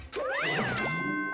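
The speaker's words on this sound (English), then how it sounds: "That chime just now." A bright electronic chime from the video game Danganronpa: Goodbye Despair, sounding as a single rising-and-falling tone that settles into steady sustained notes, clear and alone with no talk.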